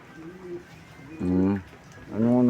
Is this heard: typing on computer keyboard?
no